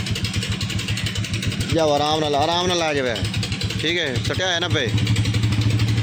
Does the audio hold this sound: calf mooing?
no